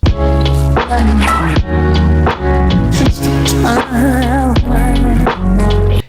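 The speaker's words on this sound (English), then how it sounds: "by shifting every offbeat hi-hat so it's a little bit late" A loud drum beat with a lazy, swung feel, hi-hats dragging behind and snare hits pushing slightly ahead, layered over bass and melodic chords.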